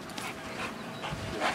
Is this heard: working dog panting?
yes